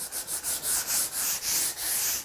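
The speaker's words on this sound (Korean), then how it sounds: "60번 사포 같은 경우에는 그냥 외형을 전체적으로 다듬는 느낌이기 때문에" Coarse 60-grit sandpaper rubs over a belly board in about nine steady back-and-forth strokes, a close, even, rhythmic scraping.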